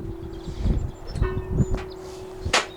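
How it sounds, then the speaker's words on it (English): Bell chime ringing from a tower overhead at a sail tower position, a few clear struck tones sounding amid low rumbling background noise and scattered clatter, with a bright strike near the end. "We can hear a chime up above us."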